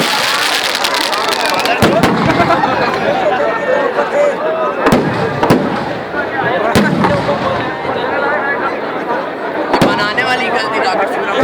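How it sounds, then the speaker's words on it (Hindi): Sharp bangs and crackles from a fireworks display at Raavan Dahan on the WRS Ground in Raipur cut through continuous crowd noise and talk, with a few loud reports spaced several seconds apart. "कितना शानदार आतिशबाजी हुआ।"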